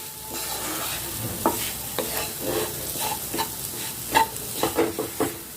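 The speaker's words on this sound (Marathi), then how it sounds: "पाच मिनिट मी हा असाच भाजून घेते" Moong dal roasting on low flame in a pan for halwa, stirred with repeated gritty scrapes and soft taps over a faint continuous sizzle, near and without speech.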